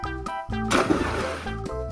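A loud splash as two people jump into a village pond, a burst of churning water standing out over continuous tonal background music.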